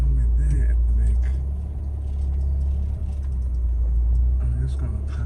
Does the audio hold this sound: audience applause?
no